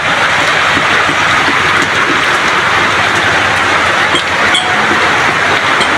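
Heavy rain driven by wind pours steadily at a balcony, a loud, dense, unbroken hiss of water with gusty rushing underneath and no speech.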